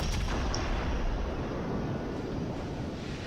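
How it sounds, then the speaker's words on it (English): Cruiser shells strike a battleship in World of Warships: a loud, broad rumbling roar of impacts and explosions that continues without a break, with no talk. "Now that cruiser hit me and put me on fire"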